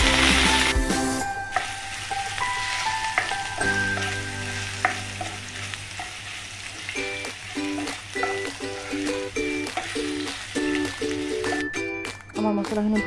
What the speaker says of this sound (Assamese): ভাজিব লাগিব